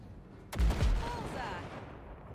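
Gunfire blasting at wrecks in the video game Cyberpunk 2077: one sharp, loud blast followed by a second heavy burst, then a rumbling decay over steady background noise.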